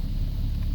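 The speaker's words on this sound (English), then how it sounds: "Settles right down to the idle that's supposed to be." A 2003 Jeep Grand Cherokee 4.0 engine idling after an idle air control valve replacement, a steady low rumble held at an even level for a brief moment, with no talk.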